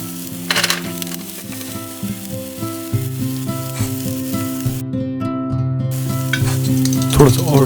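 Oil fries in a pan while an egg omelette is being cooked: a loud, continuous crackling sizzle, close up, with a few stirring scrapes and a steady background hum.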